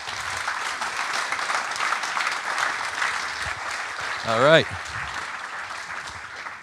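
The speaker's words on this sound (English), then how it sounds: "So give all of those people a round of applause," Conference audience at a robotics developers' closing session applauds, a moderate continuous clapping wash heard at a distance under a voice, which briefly rises with a short spoken remark near the end.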